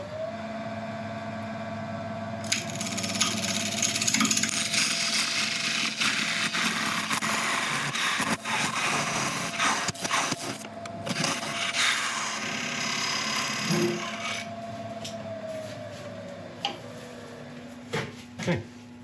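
A wood lathe spins while a tenon is turned on a resin piece, a steady whirring drone with scraping tool contact and intermittent clicks, close and fairly loud throughout.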